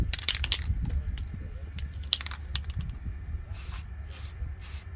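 Rust-Oleum 2-in-1 sandable filler sprayed from a can onto G-body Cutlass car door panels, with quick hissing bursts and short spritzes ending in three longer passes, close and fairly quiet.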